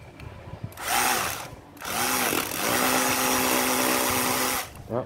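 Japanese 12V cordless drill in hammer mode, whirring up in short bursts then holding a long steady buzzing run with a rattling hammer action, close and loud, stopping and restarting.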